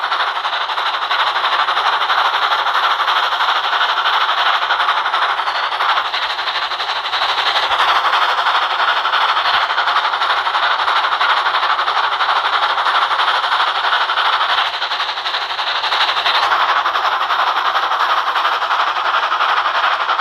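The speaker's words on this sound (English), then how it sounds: "the little blue engine shunted his train away" Steady rumbling rail noise of a train being shunted by a small engine, with a continuous mechanical roar and faint clanks over about twenty seconds.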